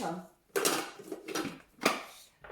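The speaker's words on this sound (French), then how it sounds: "Insérer le couvercle et le gobelet doseur." A plastic lid and measuring cup being fitted onto a food processor while making leek and pancetta risotto, a few close clacks and clunks of plastic on plastic with short pauses between.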